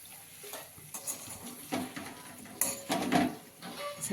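A spatula scrapes and clinks against a pan while bitter gourd fries in oil, with irregular metallic knocks and stirring strokes over a faint sizzle, fairly quiet and close.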